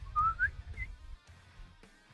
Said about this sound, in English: was a bad whistle